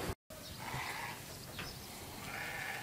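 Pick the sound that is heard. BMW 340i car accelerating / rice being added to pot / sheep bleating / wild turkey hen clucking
sheep bleating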